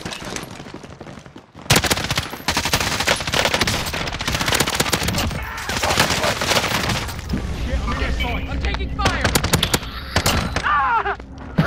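Rapid automatic gunfire and bursts of shots from the Call of Duty: Modern Warfare video game, loud and dense throughout, with a voice talking over the shooting.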